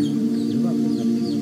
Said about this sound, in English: up in the tree here, I can see a chicken that really doesn't look in very good shape.